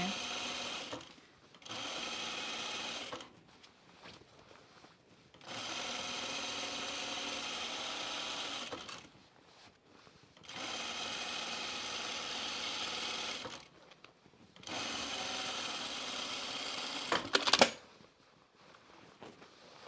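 Sewing machine stitching a pullover camp dress, running in several bursts of a few seconds each with short pauses between, close and steady, ending with a brief clunk.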